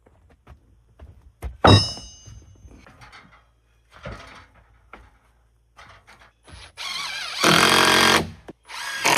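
A power drill drives screws into wooden support blocks in a sawmill shed, with short whirring bursts separated by knocks and handling thumps, then a longer loud run of the drill near the end.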